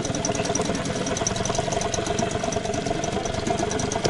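A new Chinese outboard boat motor idles with a steady, loud mid-pitched drone and a slight knocking pulse, continuous and close by with no talking.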